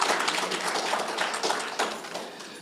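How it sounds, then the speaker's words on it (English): An audience at a justice of the peace swearing-in ceremony gives the Attorney General a brisk round of applause, a close, dense patter of many hands clapping without pause. "Let's give him, once again, give him a big round of applause"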